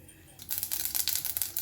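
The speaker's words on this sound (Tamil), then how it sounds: "இதில் கடுகும் சீரகமும் முதல்ல போட்டுக்கலாம்." Mustard seeds and cumin crackle in a tablespoon of hot groundnut oil, starting abruptly and turning into a dense, close run of sharp pops and spatters.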